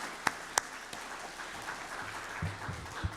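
An audience at a survey methodology lecture gives the presenters a round of applause: a few loud, distinct claps up front, then softer scattered clapping with low murmuring toward the end.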